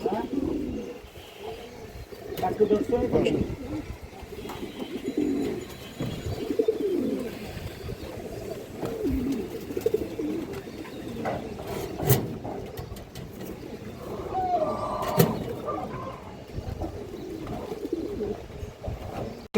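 Domestic flying pigeons coo in soft, repeated rolling phrases close by in a home loft, with occasional chirps and light rustling throughout and a few sharp clicks.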